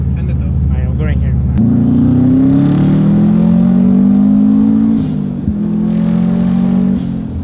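A Subaru STI fitted with a new blow off valve, pulling hard at full throttle from inside the car: a loud engine note climbs steadily through the gears with a brief dip at a shift, while people talk.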